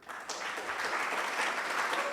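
Audience clapping in a room during a tech meetup talk, a dense sustained patter of many hands that swells slightly toward the end, heard alone without speech.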